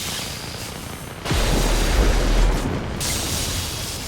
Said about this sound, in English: Let me destroy the battleship.